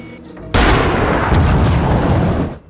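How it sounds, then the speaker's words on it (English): A rocket explodes in the video game 007: Everything or Nothing: one sudden, loud, close blast with a long rumbling tail that fades after about two seconds. "Like one single measly rocket is going to keep us down"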